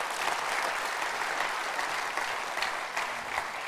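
An audience at a YITCON14 conference session applauds a speaker named Ben. Steady, dense clapping from a sizable crowd continues at an even level throughout.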